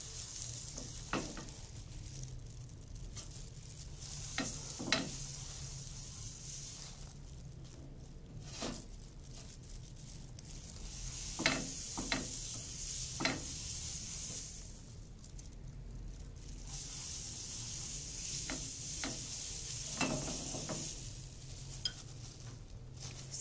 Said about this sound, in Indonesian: Setelah panas, kita bisa langsung memanggangnya seperti ini.